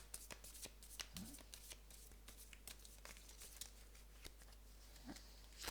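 Tarot cards are shuffled by hand close up and quietly, with a rapid, uneven run of soft riffling snaps and papery slaps that continue throughout.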